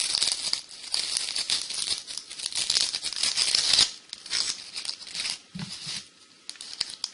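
Papery onion skin being peeled off by hand in a kitchen, with continuous dry crinkling and small tearing rustles, close and fairly loud, with no talking.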